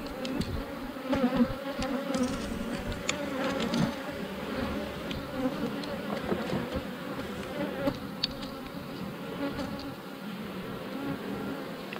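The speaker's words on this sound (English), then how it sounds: "Lots of bees." Honey bees buzz in a thick, steady drone around an open beehive frame, a close, continuous hum with no talking.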